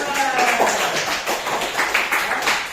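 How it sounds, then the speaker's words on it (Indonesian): A classroom full of people clapping steadily for a few seconds, dense and fairly loud, with voices mixed in underneath. "Tepuk tangan buat dia."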